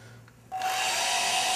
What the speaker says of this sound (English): once it's all on, we'll go over it with a hairdryer.